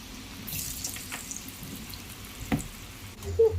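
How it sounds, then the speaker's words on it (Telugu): Lentil fritters (punukulu) frying in well-heated oil, a soft continuous hiss and bubbling with a few faint knocks and clicks, fairly quiet and close, no voices. "నూనె బాగా కాగబెట్టేసి పునుకులు వేసినట్టు వేసేసాను"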